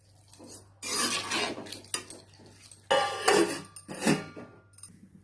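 Snake gourd curry being stirred in a pot with a spoon, then covered with a lid: several scraping, clinking bursts of metal against the pot, close and fairly loud, with no talking.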